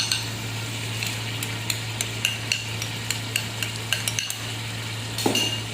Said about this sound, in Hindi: ये देखिए मिक्स करेंगे इसको अच्छे तरीके से